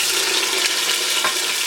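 Onions hit hot oil in a pan for paneer pasanda, sizzling in a loud, dense, continuous hiss with small splattering crackles throughout.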